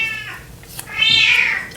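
Deaf cat meowing indoors, two loud close calls: a shorter cry first, then a longer, rising and stronger yowl.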